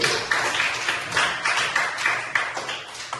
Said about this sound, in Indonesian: Tepuk tangan untuk Sandy.